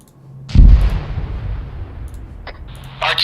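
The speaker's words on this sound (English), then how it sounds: "Artillery. Northeast." A single heavy artillery blast in a military video game booms up close, then rumbles and decays over a couple of seconds, followed by further distant shots and crackling.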